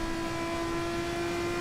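A race car engine in Assetto Corsa holds a steady, buzzing drone at constant pitch, heard alone with no talk.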